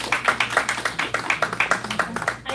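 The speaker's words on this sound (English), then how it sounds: "Everybody give her a round of applause" Rhythmic clapping from a small group at a regional meeting, even repeated claps at a steady beat, fairly close and moderate in level, with faint voices underneath.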